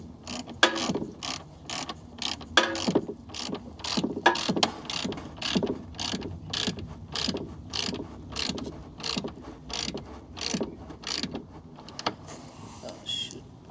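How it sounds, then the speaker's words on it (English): Screws are fastened back into the rear end of an Audi TT RS with a hand ratchet, a long run of rapid clicking strokes heard up close in a quiet workshop. "So I just need to put these two screws back in"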